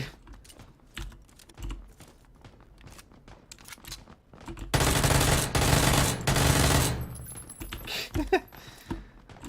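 Uzi gunfire in the PUBG battle royale video game: scattered light clicks and taps, then a loud sustained burst of rapid automatic fire, followed by a few more short sharp shots and clicks.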